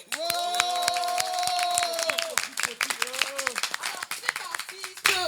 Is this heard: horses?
no